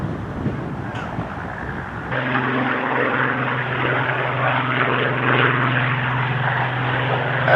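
A Spitfire's piston engine and propeller roar up as it rolls at the Sywell Airshow, a loud steady droning hum that kicks in abruptly after a couple of seconds of wind noise and holds strong throughout.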